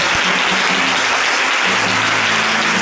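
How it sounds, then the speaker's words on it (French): Church congregation applauding and cheering during a worship service, a dense, loud, continuous wash of clapping filling the room from start to finish. "Est-ce qu'on peut acclamer Dieu pour le prophète?"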